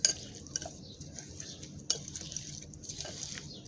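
Batter being stirred in a bowl with a spoon for a quick home recipe, giving soft, steady scraping and clinking close by, with a sharper knock now and then and no talk.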